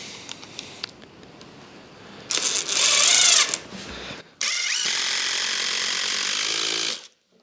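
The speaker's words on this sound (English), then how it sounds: "We'll get them screws in there now." A power driver drives screws into the wooden frame of a homemade outdoor Christmas tree, in two loud whirring bursts, one short and one longer, with quiet pauses around them.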